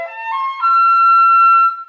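A flute sounded with a tightened embouchure at a high register, giving a sharp, shrill, breathy tone; a sustained note shifts pitch upward and holds steadily for under two seconds, loud and close with no talking.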